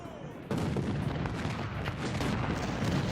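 Cannon volleys thunder across a Civil War battlefield near Philippi in the strategy game Ultimate General: Civil War, a dense, loud barrage of overlapping booms and crackling fire that bursts in abruptly after a brief lull and rolls on without pause.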